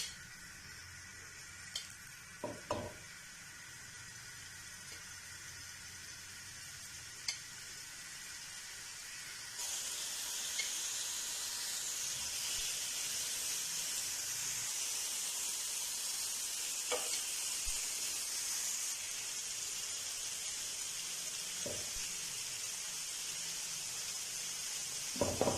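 Marinated chicken pieces for a restaurant-style butter chicken sizzle steadily in a hot pan on the stove, with a few sharp crackles early on and a louder, denser hiss once more pieces go in, continuing on its own with no talk.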